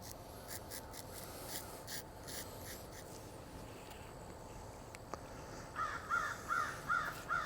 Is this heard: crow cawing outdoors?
yes